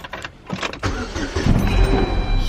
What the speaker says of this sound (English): Will Dan's car start with the new battery